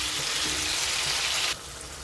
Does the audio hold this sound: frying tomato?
yes